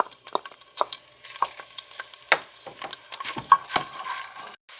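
Garlic dropped into hot oil for Khmer rice porridge, with soft sizzling and scattered scraping stir clicks of a utensil in the pan, quiet and close.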